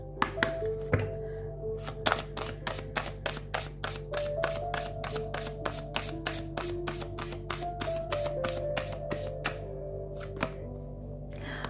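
Tarot cards being shuffled in a rapid, even run of crisp riffling clicks, quiet and close, continuing steadily for about twelve seconds with no talk.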